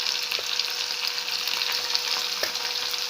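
Red chillies sizzle in hot oil with coriander and browned onion for a yellow brinjal and dal curry, a dense continuous crackle with occasional sharper pops and faint stirring scrapes.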